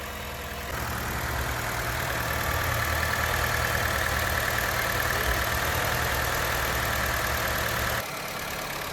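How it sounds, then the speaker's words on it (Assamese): A Honda City CVT car idles just after a cold start, a continuous loud hum with a steady whine on top and the revs still raised. It runs evenly from about a second in until near the end, then drops back. "মই জাষ্ট ষ্টাৰ্ট দিছোঁ, অকণমান ইঞ্জিনটো গৰম হ'লে RPMটো ডাউন হৈ যাব।"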